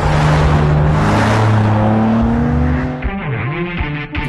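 A new BMW M3 roars hard at close range on the Nordschleife, its engine pitch climbing steadily under full acceleration, then dipping and swooping through quick gear changes and lifts near the end.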